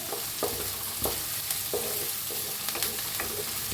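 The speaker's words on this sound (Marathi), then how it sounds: "कढीपत्ता कांदा छान असा भाजायचा लालसर कलर" Curry leaves and onions frying in a pan, a steady close sizzle with soft spoon scrapes and stirs recurring every half second or so, and no talking.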